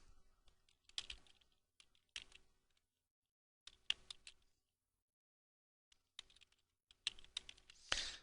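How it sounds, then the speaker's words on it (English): Close, quiet typing on a computer keyboard comes in short bursts of rapid key clicks separated by silent pauses, ending with a sharper louder keystroke. "and you just type in your name."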